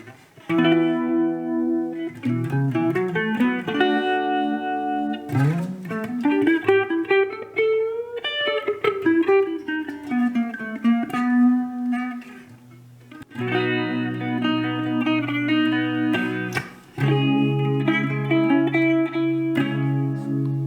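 Clean electric guitar chords and single notes through a Marshall MG15FX amp's phaser ring out with a swirling, sweeping modulation, sustained and loud, with short pauses between phrases.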